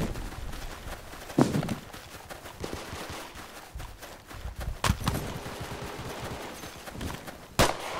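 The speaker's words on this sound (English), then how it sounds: "I'm taking fire!" Gunfire in an online shooter video game while playing with an M2 carbine: scattered shots and short bursts, some sharp and close, others softer and distant, over steady background game noise with no talk.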